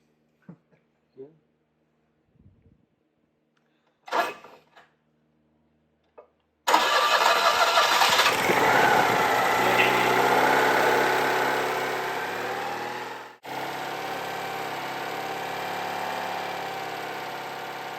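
A Citroen 2CV engine being built up and started with the throttle worked by hand: a few faint knocks and a brief voice first, then the engine catches abruptly and settles into a loud, steady idle that dips briefly before running on.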